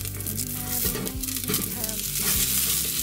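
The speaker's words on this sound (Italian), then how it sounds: "E ora faremo tostare le verdure per qualche minuto." Vegetables toasting in a thin film of olive oil at the bottom of a tall pot for vegetable broth, a loud continuous sizzle and crackle with stirring scrapes, close up and without voices.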